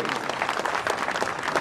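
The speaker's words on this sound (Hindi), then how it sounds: "जोरदार ताली" Dense, continuous audience applause fills the air at the Maa Saraswati Mahotsav 2015 festival, a loud, even wash of many hands clapping together with no pauses.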